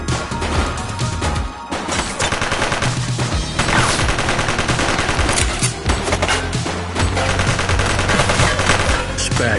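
Gunfire from the video game The Precinct: sustained, dense bursts of automatic shots and crashing impacts packed over a loud, continuous music or ambience bed, with no clear pauses.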